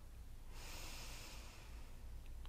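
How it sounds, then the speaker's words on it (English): Someone breathing in slowly through the nose during relaxation yoga: one soft airy inhale that swells and holds for about a second over a low steady hiss, faint and close, with no talking. "Breath in on three."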